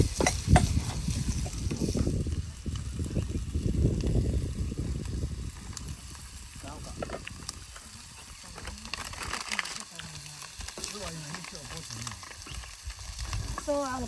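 Food cooking over a slow flame at an outdoor picnic, with a steady soft sizzle and occasional stirring, fairly close, and a voice speaking now and then over it.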